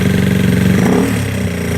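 A GY6 scooter engine idles after carburetor tuning, a loud, close, steady putter with even rapid firing pulses that dips slightly in pitch toward the end.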